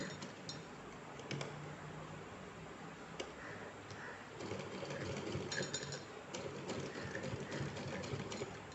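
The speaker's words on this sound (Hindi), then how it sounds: "यहाँ पर हम एक मशीन से सिलाई लगा लेंगे" A sewing machine stitches cloth for a small Laddu Gopal crown, a faint, steady mechanical whirr with quick ticking repeated throughout, heard close with no speech.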